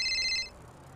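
A phone rings briefly inside a GTA roleplay game, a short electronic ringtone of bright repeated tones lasting about half a second before cutting off, heard alone.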